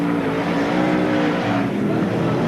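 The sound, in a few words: sprintcar racing engines at speedway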